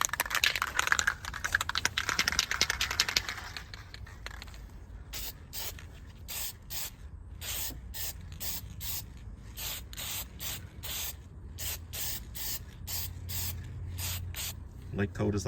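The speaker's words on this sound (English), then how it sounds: "Spray some rattle can on it." A rattle can sprays paint onto a car headlight in a loud hissing burst lasting several seconds, then short rhythmic spray pulses follow, close up, with a faint low hum underneath.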